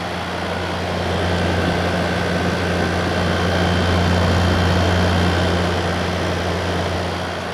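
A 2017 Arctic King 10000 BTU air conditioner running loud and close, a steady broadband whoosh of airflow over a low, constant compressor hum that swells slightly midway.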